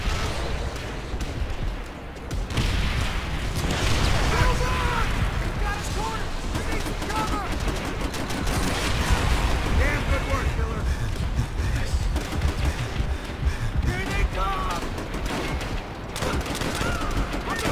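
Rapid gunfire and bursts of shooting from Call of Duty: World at War on PC, dense and continuous across the whole stretch, mixed with battle noise and occasional voices.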